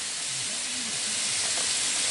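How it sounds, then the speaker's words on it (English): Steady loud hissing sizzle of lightly seasoned shrimp frying in a pan, continuous and close, with no voices. "drop your shrimp in the frying pan"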